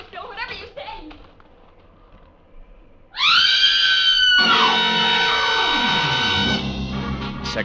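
A woman in a radio drama lets out a long, loud scream outside a barn, a sustained piercing cry of several seconds that follows a brief stretch of quieter voices.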